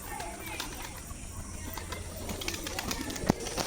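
Pigeons coo softly, a few of them chilled after rainwater got into their loft, with low murmuring calls and a brief wing flutter beneath someone talking.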